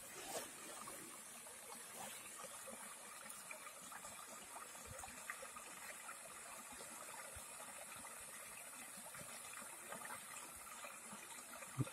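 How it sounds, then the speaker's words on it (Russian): The small Galek-Mashorka river in Kirov Oblast, Russia, flows in a continuous soft, gurgling rush of water, steady and fairly quiet throughout, with no talking. "Вот такая речка Галек-Машорка."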